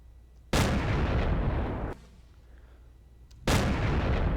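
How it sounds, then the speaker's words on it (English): Loud game weapon fire from a Firework Launcher and missiles in the Roblox game Plane Crazy: two sharp, booming blasts about three seconds apart, each with a rumbling roar that fades slowly, over a low background hum. "You got just the Firework Launcher, and then actual missiles. And then the audio for that would be this."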